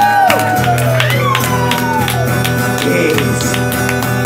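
A concert crowd at a York gig cheers and whoops with scattered claps, fairly loud and close, as voices shout over each other.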